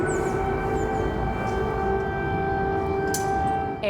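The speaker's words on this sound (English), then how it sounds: "Air raid sirens went off in the Ukrainian capital twice during Rutte's visit" A civil defense air raid siren wails steadily in Kyiv, Ukraine, loud and sustained over a rumbling city background for the whole stretch, its tone holding level.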